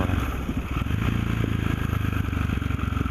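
A motorcycle rides steadily at a constant pace, its engine a loud close drone with rapid pulsing exhaust beats and some wind and rattle mixed in.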